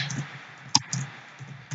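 Clicks on a laptop keyboard during a Minecraft Egg Wars game: a few soft, scattered taps and one sharper, louder click near the middle, all close and quiet, with no talking.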